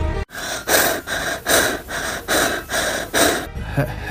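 Heavy, close breathing right up against a phone in a horror story, about eight rhythmic breaths in quick succession, loud and raspy with no other sound.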